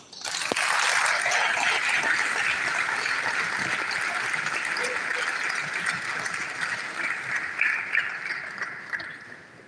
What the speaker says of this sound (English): Round of applause for Mr. Will Stevens, the U.S. Consulate